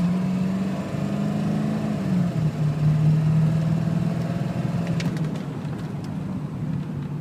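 A 1995 Ford truck engine running steadily at a low idle, a continuous rumbling drone with a slight pitch drop midway and faint clicks near the end, fairly close.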